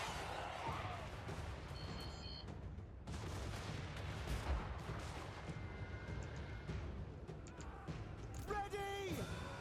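Gunners firing in the Eternal Empire video game, a dense rumble of battle gunfire and booms running steadily throughout, with a brighter crackling burst near the end.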